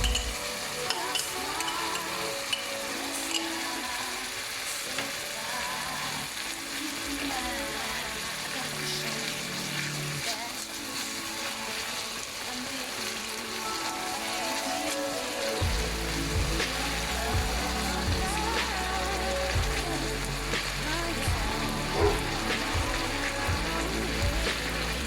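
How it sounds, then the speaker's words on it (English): Tomato gravy with leftover garlic sizzles steadily in a pan, a continuous frying hiss with scraping stirs throughout and a low hum joining in the second half. "on here I am making tomato gravy, leftover garlic from"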